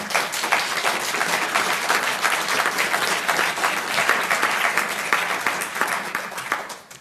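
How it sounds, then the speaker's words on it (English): A room full of conference attendees applauds the presenters steadily for several seconds, a dense wash of clapping that fades out at the end. "could we have a clap for all the people who presented?"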